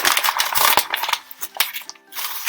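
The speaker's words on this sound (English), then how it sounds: "Now to prepare my paper, what I want to do is I want to crumple it up." A sheet of paper is crumpled by hand for an art journal, giving close, bright crinkling and crackling bursts in quick irregular rhythm with brief pauses between handfuls.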